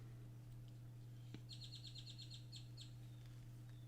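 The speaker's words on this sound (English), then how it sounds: "The birds are really chirping today." Small birds chirp outdoors in a quick run of bright, repeated tweets, faint and distant, over a steady low hum.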